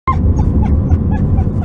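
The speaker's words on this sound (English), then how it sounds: "He's been barking the whole time." Dog giving a quick run of short whiny yips and whimpering barks, close and loud, repeating several times in rapid succession, with no talk over it.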